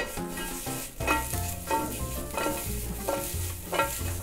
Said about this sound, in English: So into a dry pan, evaporate the moisture out of these things. Just some salt and pepper. I'm gonna add in some butter.